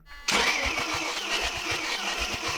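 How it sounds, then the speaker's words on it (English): A salvaged Mercedes-Benz SL320 with engine damage cranks with a steady rhythmic chugging from the starter, loud and close, without catching or firing up. "Rokas, crank the engine"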